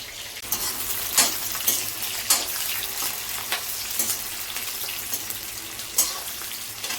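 Gravy ingredients fry in a pan with a loud, steady sizzle broken by repeated crackling bursts and spoon stirs at irregular intervals, close up with no talking.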